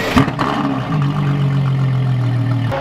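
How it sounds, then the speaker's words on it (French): A hybrid hypercar's V12 engine at the Paul Ricard circuit produces a steady, close, deep mechanical drone that holds level for a few seconds. "une hypercar hybride, avec un beau V12 bien hurlant comme il faut"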